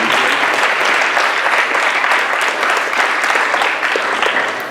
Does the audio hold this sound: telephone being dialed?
no